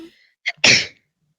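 One sneeze, near and fairly loud: a short sharp intake of breath, then a single explosive burst that fades quickly into quiet.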